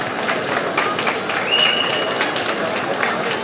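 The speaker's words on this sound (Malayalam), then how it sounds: "അതിനും ഒരു വലിയ കയ്യടി നിങ്ങൾ പ്ലീസ്" A large audience at a Malayalam film event applauds for actor Tovino Thomas, sustained crowd clapping with some cheering and a brief whistle mixed in.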